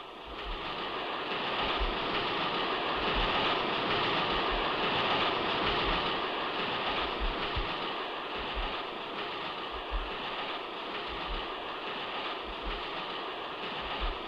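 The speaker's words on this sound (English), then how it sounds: "A luxury train, air-conditioned, diesel-powered, with a varied menu, choice wines and a bar." An air-conditioned diesel passenger train in Malaya, 1961, runs steadily with a continuous rumbling roar and faint rhythmic low thumps of wheels on track joints, no voices.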